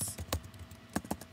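A handful of separate keystrokes on a computer keyboard tap out a short message, quiet and close, in an irregular rhythm.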